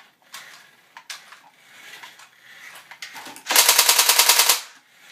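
Airsoft gun mounted on a remote-control car, heard first as scattered clicks and light mechanical knocks, then a loud, close burst of rapid full-auto fire lasting about a second.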